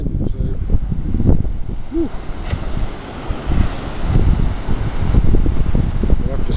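Strong westerly wind buffets the microphone on a beach with heavy seas, surf rolling in beneath a constant roaring gust noise, loud and close throughout.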